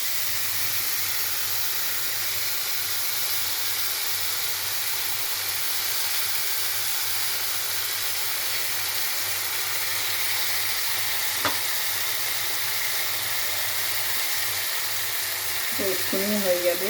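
Spice paste frying for a bottle gourd greens dish, a steady soft hiss and sizzle throughout with a faint click, and stirring sounds creeping in near the end.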